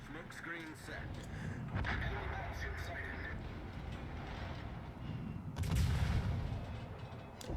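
Naval gunfire from a World of Warships battle, a Fletcher destroyer taking a full broadside, sounds as muffled booms under continuous battle din, with the heaviest blast near the end; speech and game audio mix over it.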